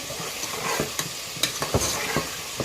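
Green chillies go into a pan of frying mixed vegetables for a Pakistani sabzi, with a soft steady sizzle under scraping stirs and clinks of a spoon, close and unvoiced.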